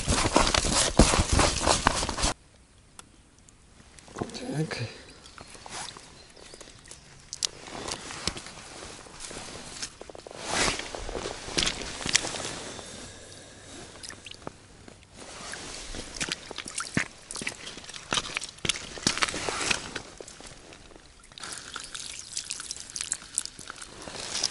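Fishing groundbait mixed by hand after water is poured in, giving irregular wet squelches, slaps and gritty rustling up close, with brief pauses between bursts of kneading.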